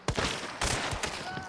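A few sharp gunshots from the video game Hunt: Showdown crack out in quick succession, loud and close, with a voice briefly audible between them.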